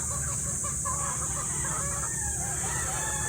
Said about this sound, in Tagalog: Yan, yan ang ating mga pullets.